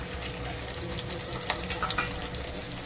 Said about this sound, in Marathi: कांदा कढीपत्ता तेलामध्ये चांगला परतून घेऊया.